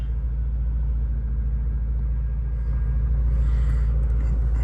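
A 1996 Chevrolet Corvette C4 engine runs at a steady, low idle, a close and continuous rumble with an even, pulsing throb and no voices.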